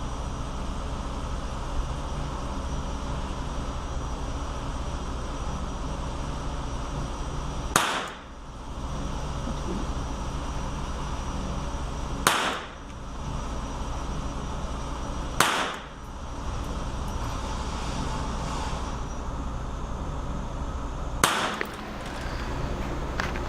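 Four sharp, distinct .22 caliber rifle shots ring out several seconds apart outdoors, each a brief loud crack over steady background hiss.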